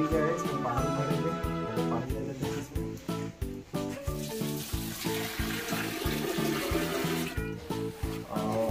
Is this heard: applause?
no